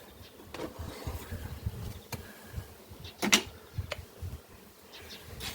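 Bees buzzing faintly as they are moved into an automatic hive, a soft, steady drone with occasional brief louder passes and rustles nearby.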